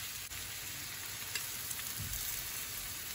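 Minced meat frying in a pan for an eggplant lasagna, a steady close sizzle with occasional soft stirring scrapes and nothing else.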